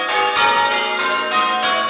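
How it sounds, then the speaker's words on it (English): Church bells from St Martin in the Fields, cast in the early 18th century and now hung in the Barrack Square bell tower in Perth, peal loud and close in rapid overlapping strikes with long ringing tones. "It contains 12 bells from St Martin in the Fields in the centre of London."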